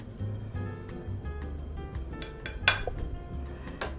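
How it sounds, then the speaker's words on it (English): Dry flour and sugar being mixed in a bowl for Irish soda bread, with close clinks and scrapes of a utensil against the bowl and a low kitchen hum underneath. "I'm just going to mix it all together"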